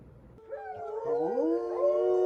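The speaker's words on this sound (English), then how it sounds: "The sheep had rows of razor-sharp teeth as it roared." A monstrous sheep with razor-sharp teeth roars in a story sound effect: one drawn-out, wavering, howl-like cry that starts suddenly, climbs and layers in pitch, holds loud for about two seconds, then cuts off abruptly.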